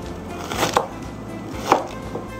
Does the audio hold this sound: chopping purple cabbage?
yes